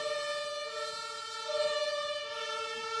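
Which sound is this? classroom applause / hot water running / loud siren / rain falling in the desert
loud siren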